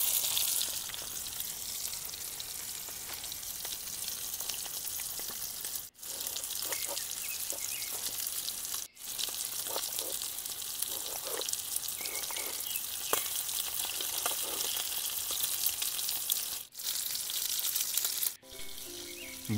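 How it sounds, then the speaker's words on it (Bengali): Fish fries in a pan at a night campsite deep in a forest, a steady close sizzle and crackle lasting the whole stretch with a few brief breaks, no talking. "মাছ ভাজছি, এবার মাছের ঝোল করব"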